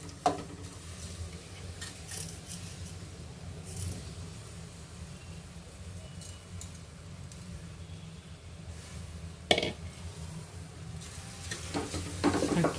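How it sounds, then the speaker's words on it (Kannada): Soaked rice tipped into a pot for dum vangibath and stirred, soft scraping and shuffling over a low frying sizzle, with a couple of sharper clinks of a spoon against the vessel, close and fairly quiet. "ನೆನೆಸಿಟ್ಟಿರೋಂಥ ಒಂದು ಅಕ್ಕಿನ ಕೂಡ ಇಲ್ಲಿ ಹಾಕ್ಕೊಳ್ತಾ ಇದ್ದೀವಿ"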